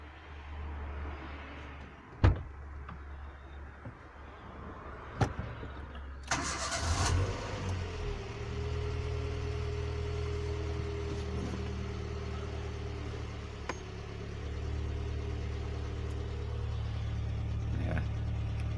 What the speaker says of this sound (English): I'm just going to start the car